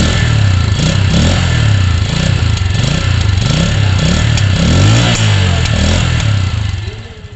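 A Keeway Cafe Racer 152 retro motorcycle is being ridden, its loud nearby engine drone rising and falling in repeated revving pulses under heavy wind noise before fading at the end.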